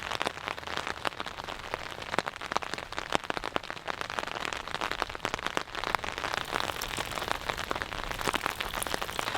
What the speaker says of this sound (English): just listening to the rain. It's coming down nicely.